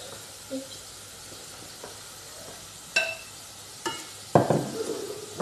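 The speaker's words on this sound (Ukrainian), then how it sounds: "наше м'ясо так посмажилося гарно. О, Тепер додаємо морковку." Carrots and meat frying in a pan, with a soft sizzle under occasional stirring clinks and scrapes, and a louder burst of sizzling as food hits the hot fat near the end.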